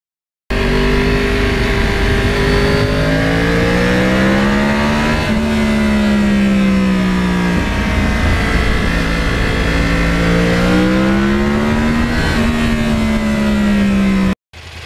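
A Yamaha R1 Crossplane 1000 custom motorcycle engine runs loud and close, revving up and down in repeated waves between idle stretches, with no talk over it.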